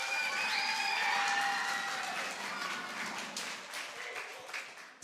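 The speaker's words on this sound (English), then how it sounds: "let's give them a big round of applause" Audience applause for young readers at a national reading competition, steady crowd clapping with some cheering that is loudest early and gradually softens, with no talk over it.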